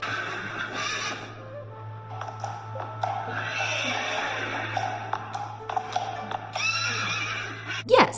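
A horse neighs and whinnies over a steady low hum, with scattered hoof taps and clip-clop sounds throughout, fairly faint and alone without talk.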